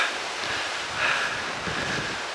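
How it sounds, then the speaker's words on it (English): Strong wind, with gusts forecast at 40 to 50 miles per hour, blows outdoors as a broad, rushing roar that swells briefly about halfway through and buffets close to the microphone, with no one talking. "Oh, nice and blowy, I like the wind, it's good."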